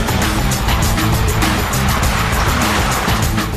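A Vito Sport X van with a 3-litre V6 diesel is driven hard around a test track, its engine roaring loud and close in a continuous rush with faint tyre noise.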